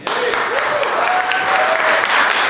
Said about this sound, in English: So with that, give a big round of applause